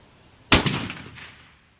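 .308 rifle fired once at a target, giving one sharp, loud report that rings out and decays over about a second in open air.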